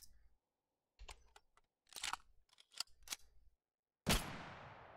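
Magnum revolver shots fired at a shooting range in the game Totally Accurate Battlegrounds, several sharp close cracks in an uneven cluster, then a pause and one louder blast with a long ringing decay.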